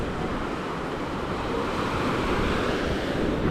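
Ocean surf at the seaside makes a steady, dense wash of breaking waves, heard close and fairly loud, mixed with some wind rumble and no pauses.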